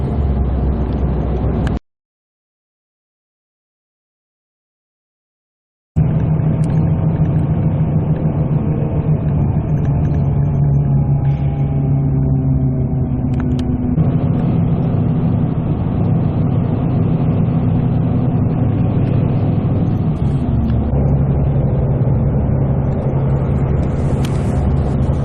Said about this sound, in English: You can kind of hear the diesel in the background, but you can see it's not really straining.